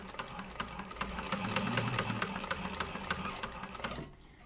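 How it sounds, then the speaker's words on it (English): A sewing machine stitches a crossbody bag, running steadily with a fast, even mechanical rattle, close and fairly loud, then stopping near the end. "Back stitch 2 stitches, front stitch 2 stitches, pivot,"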